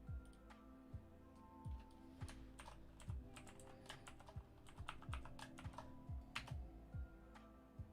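Typing on a computer keyboard: quiet, close key clicks come in quick irregular bursts and short runs for several seconds, with a few sharper taps over faint background hum and no voices.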